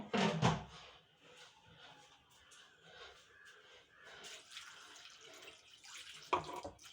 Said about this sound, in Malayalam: ആവശ്യത്തിന് വെള്ളം അതിലേക്ക് ഒഴിച്ചു കൊടുക്കുക